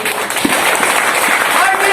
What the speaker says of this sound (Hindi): जोरदार तालियों से बुंदेलखंड की धरती से पधारे हुए मैं स्वतंत्र जनता राज पार्टी के राष्ट्रीय अध्यक्ष भाई घनश्याम कोरी जी को आपके बीच आमंत्रित कर रहा हूँ।